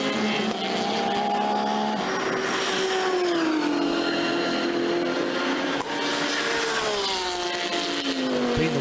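GT race cars, including an Audi and a Porsche, roar past at Zandvoort in British GT racing: a loud, continuous engine drone rising and falling in pitch as the cars shift and accelerate, with no gaps throughout.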